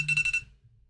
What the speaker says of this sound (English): And there goes my 2:30 alarm.